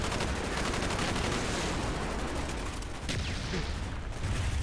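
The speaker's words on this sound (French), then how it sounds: "Je tire, je tire." Dense gunfire from Call of Duty: Black Ops, a continuous fusillade of rapid shots at steady loudness with a sharper burst near the three-second mark, no voices over it.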